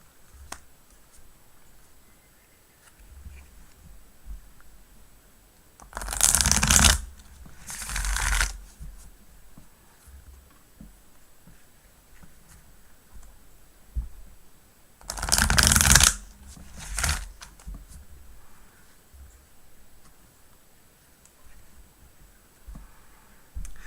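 A tarot deck is shuffled in two separate bursts, each a quick riffling flutter of cards close by, with quiet stretches between and no talking.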